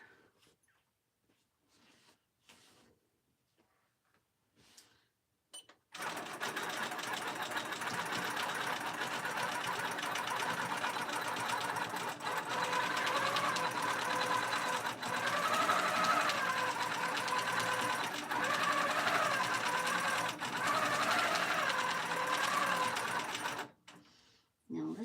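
Longarm quilting machine stitching a quilted pillow top on a Cutie frame, a few faint clicks, then a steady close buzzing hum for about eighteen seconds before stopping abruptly.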